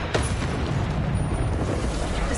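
A Descendo spell impact in Hogwarts Legacy lands as a broad, rumbling crash with a quick onset, followed by a sustained noisy roar that stays loud and dense throughout.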